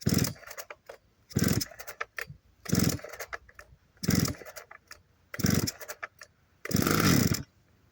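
A Motor Sich chainsaw being started outdoors: about six separate pull-start bursts, each a short loud rasping engine catch that dies away, the last running slightly longer.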